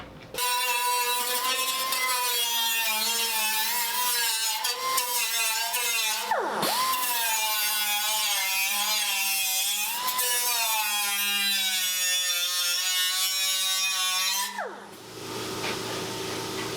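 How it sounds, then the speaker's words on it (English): A power sander dresses down metal on a 1932 Ford firewall for a Sweet Heart Roadster build. It is a steady, loud, whining run of about fifteen seconds with one brief dip in the middle, then it cuts off near the end. "So I'll just dress that little bit there with the sander."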